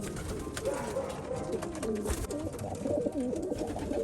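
Racing pigeons in a loft coo continuously, overlapping throaty warbling calls close by, with soft shuffling and rustling in the background and no talking.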